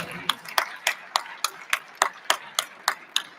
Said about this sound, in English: Please, a round of applause as he comes forward.